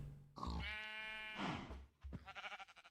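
A sheep in the video game Minecraft gives a loud, close bleat of about a second and a half, followed by shorter grunting bleat sounds, with no talk over it.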